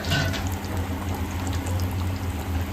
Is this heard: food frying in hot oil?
yes